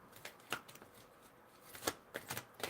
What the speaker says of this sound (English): I'm pulling a card.